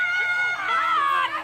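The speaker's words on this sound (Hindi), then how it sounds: "इस वीडियो में आप लोगों के चीखने चिल्लाने की आवाज सुन सकते हैं।" High-pitched, wavering human screams and shouts rise and fall over a short stretch during a beating with sticks in a land dispute in Bodhpur village, Sikrara, with distressed voices close and loud.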